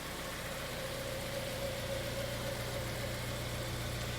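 A Honda Integra DC5 engine idles smoothly and evenly nearby, giving a continuous low hum with a faint mid-pitched whine and no speech.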